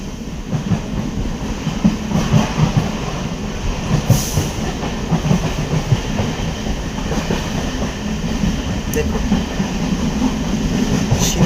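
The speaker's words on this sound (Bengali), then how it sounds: "আমাদের ট্রেন এখন ঢুকছে" A train pulls into Fulia station at night, its wagons rumbling and clattering steadily nearby with occasional wheel squeals and clicks over a continuous low roar.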